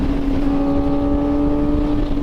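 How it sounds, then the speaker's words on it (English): A Kawasaki ZX-4RR motorcycle fitted with a Graves exhaust, pulling under load in fifth gear: a loud, sustained high-pitched engine whine with a steady tone and layered harmonics, heard close with wind rush, no speech. "I'm in 5th gear and that thing sounds like a Lamborghini or an Indy car or something."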